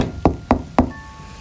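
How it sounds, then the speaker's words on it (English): Three sharp knocks on a door at an even, unhurried pace, loud and close, followed by a faint steady hum with no voices. "all of a sudden I heard a knock on the door"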